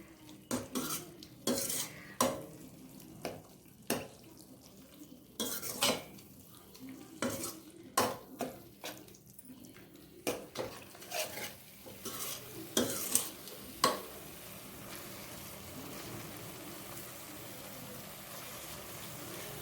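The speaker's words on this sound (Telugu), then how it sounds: "చూసారా, ఆయిల్ ఎలా వస్తుంది కదా. ఇప్పుడు బాగా ఫ్రై అయిపోయింది." Masala frying in oil for street-style batani chaat, with a steady sizzle broken by repeated loud scrapes and clinks of a spoon stirring against the pan, close up, the stirring fading and the sizzle running alone toward the end.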